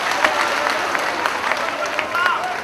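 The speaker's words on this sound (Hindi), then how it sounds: "जोरदार तालियों से स्वागत करेंगे इनका।" Audience clapping at a stage program during a Sawan religious gathering, welcoming guests onto the stage; steady, dense applause from a crowd with a faint announcer voice underneath.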